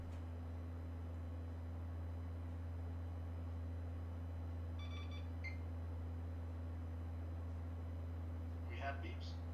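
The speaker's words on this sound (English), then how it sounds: "we have beeps" A few short electronic beeps sound faintly around the middle, followed by a brief chirpy tone near the end, all over a steady low hum, from a newly built gaming PC.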